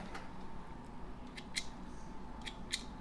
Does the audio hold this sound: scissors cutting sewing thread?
yes